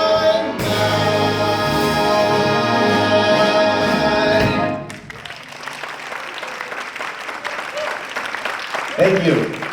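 A concert audience applauds a big band as music ends, the loud dense clapping rising after the band's final held chord and continuing steadily to the end.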